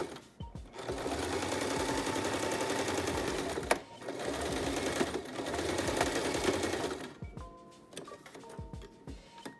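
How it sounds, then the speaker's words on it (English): A sewing machine runs along an interlock stitch on a fabric face mask, making a fairly quiet, fast mechanical whir in two long bursts separated by a brief pause, then slowing into a few shorter stitches. "We're just gonna sew along that interlock stitch."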